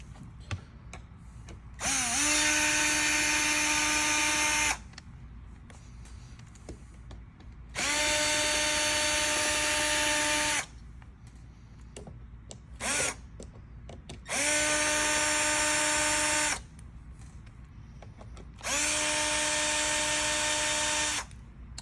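A power drill backs perimeter screws out of a REL T/7 amplifier in repeated bursts of a steady high whine, each lasting two to three seconds with short pauses between them, close and loud.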